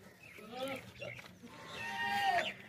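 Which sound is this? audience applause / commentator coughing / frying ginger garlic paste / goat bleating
goat bleating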